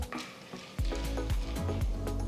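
Chana dal tempering in hot oil in a kadai, a close sizzle with a few sharp clicks and pops as lentils hit the oil, building to a steady crackle without talk.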